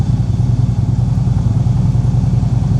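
A 2016 Harley-Davidson CVO Street Glide with a 110 engine and Stage 1 Vance & Hines exhaust idles steadily, a deep, loud, lumpy rumble that stays close and continuous with no talk.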